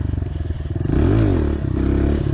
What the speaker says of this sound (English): This is literally just gonna be like an episode of wheelie practice.